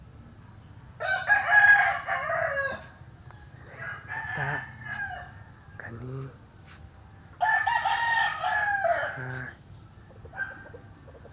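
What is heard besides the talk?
rooster crowing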